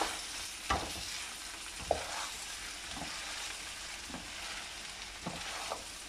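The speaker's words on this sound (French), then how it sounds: "On remélange encore une fois." Soft sizzle of a paella mixture frying in the pan, with a spoon stirring and scraping at irregular intervals, quiet and close with no talking.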